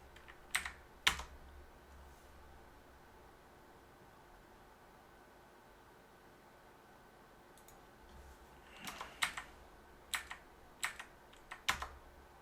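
Keys clatter on a computer keyboard in two bursts of typing, a few quick taps at the start and a longer run of clicks near the end, with near silence between them.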